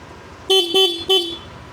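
The stock horn of a Yamaha Lexi 155 scooter beeps thinly and high-pitched three times in quick succession, each toot short and clear against quiet surroundings.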